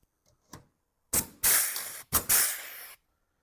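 A hand rivet gun sets rivets into a caravan panel, with a few faint clicks followed by two louder hissing, rasping bursts of squeezing and clearing, close and alone.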